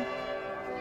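Church bell during a Holy Week procession in Ouro Preto, heard as a sustained, ringing bell tone with rich overtones, fairly loud and alone, without voices.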